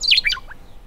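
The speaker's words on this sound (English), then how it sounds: "meadowlarks, of course, because they're always around and singing at this time of year" A meadowlark sings a brief, clear series of bright descending whistled notes, close and loud, alone over quiet background.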